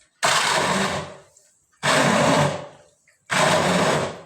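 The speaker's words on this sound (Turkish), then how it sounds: "Benim gibi el blenderın içinde de çekebilirsiniz arkadaşlar." A hand blender grinds grapes into a paste in three separate bursts of about a second each, a loud, close whirring motor with short silent pauses between pulses.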